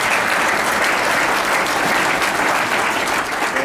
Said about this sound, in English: give him some applause, please.